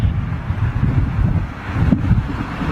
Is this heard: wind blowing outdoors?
yes